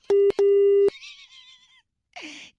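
A phone line after a hang-up gives two steady beeps of line tone, loud and close, then a brief fading warble and a short noisy burst.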